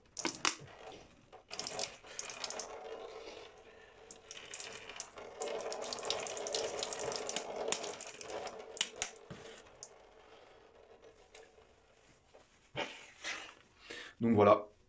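Water poured gently from a bottle to rinse hair after a hair transplant, a soft continuous splashing stream over several seconds, with a person talking through much of it and a few louder handling noises near the end.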